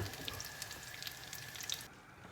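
Chopped onion and carrot with a little flour frying in oil in a pan, a soft, quiet, steady sizzle with small crackles.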